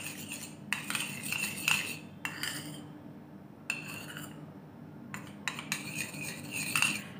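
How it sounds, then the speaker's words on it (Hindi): A spoon stirs a homemade face pack with rose water in a bowl, giving intermittent bursts of scraping and light clinks against the bowl with short pauses between them. Close and moderately loud, with no talking. "इसे अच्छे से मिक्स कर लेंगे"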